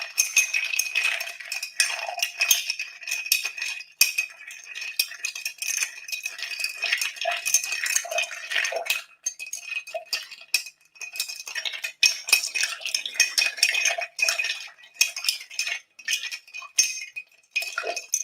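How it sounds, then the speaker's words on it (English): A cocktail being stirred with a bar spoon in a glass, continuous bright metallic clinking and rattling of spoon against glass and ice, close and steady for a long stretch with brief pauses. "Man, I much prefer stirring with Gaz Regan's finger than with this goddamn spoon"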